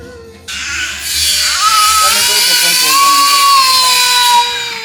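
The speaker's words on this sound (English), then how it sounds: "Mario, they're drilling the hole." A power drill bores a hole for veranda decking on a home build in Jamaica, its motor whining up in pitch and holding steady for several seconds, loud and close.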